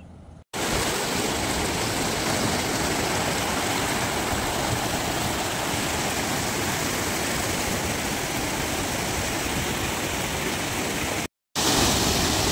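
Chunni Dari waterfall near Chunar, Mirzapur, pours with a loud, constant broadband roar of falling water, unbroken apart from a brief cut near the end.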